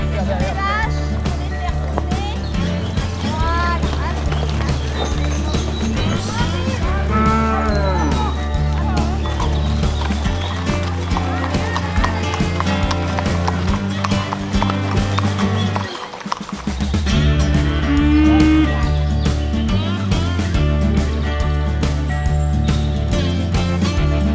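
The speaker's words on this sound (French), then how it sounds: "on a également un troupeau de Black Angus qui sont élevés en élevage extensif" Black Angus cattle raised on an open-range ranch moo as a herd, with hoof clip-clop and other ranch noise blending through a dense, continuous mix that runs without a break.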